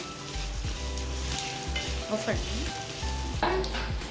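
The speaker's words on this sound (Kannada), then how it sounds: "ಈರುಳ್ಳಿ ಒಂದು ಸ್ವಲ್ಪ ಚೆನ್ನಾಗಿ ಫ್ರೈ ಆಗಲಿ" Onions fry for chicken curry, a loud steady sizzle with repeated spoon scrapes and knocks against the pan as they are stirred.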